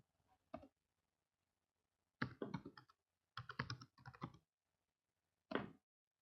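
Someone types a root password on a computer keyboard during a server software install, with short clusters of crisp key clicks separated by quiet pauses.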